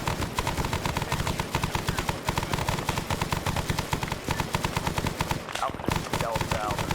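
Sustained automatic gunfire from AI soldiers in SOG Prairie Fire, a Vietnam War game, rattles on as a dense, continuous volley of rapid shots with overlapping bursts, loud and close, with only a brief lull near the end.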